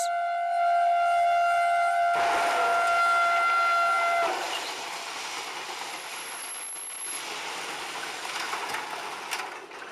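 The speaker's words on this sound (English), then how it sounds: "what can happen if a vehicle doesn't clear the tracks in time as a train approaches" A train approaching a level crossing rumbles past with a long, steady horn blast at the start, then continuing rail noise and clatter fading gradually.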